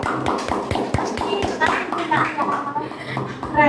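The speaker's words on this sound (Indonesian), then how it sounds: "Tepuk tangan untuk orang tua kita." Audience applause honoring parents during a Gen Z career talk show, many hands tapping and clapping in a steady dense patter with scattered sharper claps, mixed with crowd murmur and voices.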